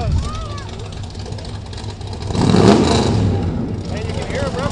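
A lifted Ford F-150 pickup built for mudding revs its engine, a steady rumble swelling louder midway and then easing off, heard over talking voices nearby.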